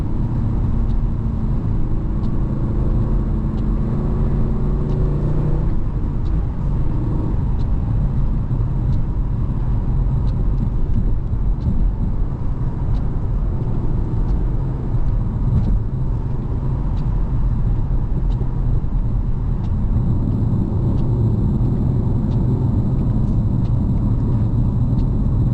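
A Holden-built Vauxhall VXR8 GTS drives along the A4059 road through the Brecon area of Wales, giving a constant, loud, low rumble of engine and road noise from inside the cabin.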